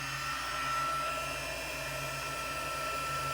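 Heat embossing tool running continuously to melt clear embossing powder, a steady, loud fan whir with a high whine that holds unchanged throughout, nothing else audible.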